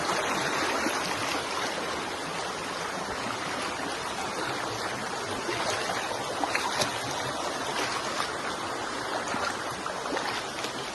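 Swollen creek water rushes steadily and close by in a Konkan stream near Ratnagiri, a dense, even wash of flowing water with no pauses.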